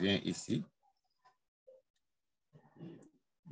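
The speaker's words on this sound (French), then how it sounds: "Je clique ici." Mouse clicks on a computer while buying currency on an exchange website: a few faint, sparse clicks in a quiet gap between bursts of nearby speech.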